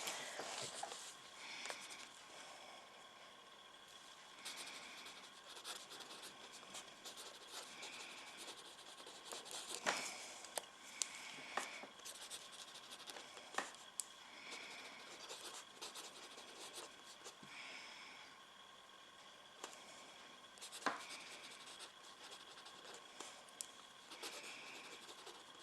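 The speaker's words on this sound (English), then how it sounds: "so I'm gonna write here." Pen writing on paper while a Gravity Falls book page is copied: continuous quiet scratching and rubbing strokes with small taps, going on steadily without any talk.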